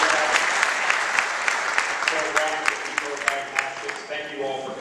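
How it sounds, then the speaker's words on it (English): A crowd at a Startup Quest Broward pitch day opening ceremony applauds board of directors members, a dense roomful of clapping with sharper individual claps popping out, tapering as a voice starts speaking near the end. "I was wondering if you would stand up and get a round of applause from the group"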